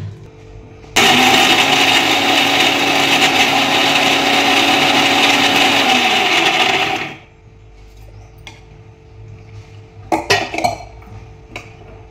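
An electric mixer grinds coriander, ginger and garlic with water into a spice paste, a loud, steady whirring drone for about six seconds that cuts off abruptly, followed by a few light clinks and knocks.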